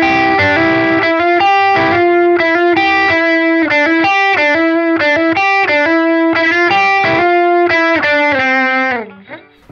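An electric guitar plays a sustained lead line through a Line 6 Helix worship patch with distortion and reverb, loud and up front, with notes held and changing in a melodic phrase that fades at the end.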